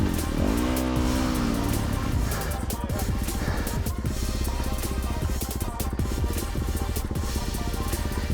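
A 450 dirt bike engine at the 24 Hours of Glen Helen race runs loud and close throughout, its tone climbing and settling with throttle in a steady unbroken roar.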